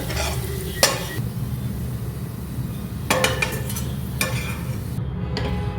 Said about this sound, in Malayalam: നമുക്ക് ഒരു ഗോൾഡൻ ബ്രൗൺ കളർ വരുന്നിടം വരെ ഇത് ഫ്രൈ ചെയ്ത് നമുക്കെടുത്ത് മാറ്റാം.